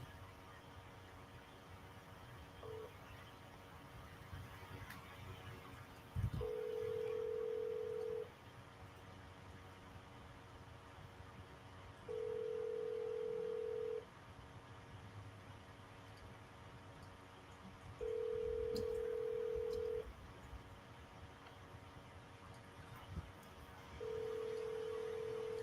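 Telephone call being placed, with repeated ringback tones sounding in even bursts of about two seconds, separated by long gaps over a faint steady hiss, heard alone without talk.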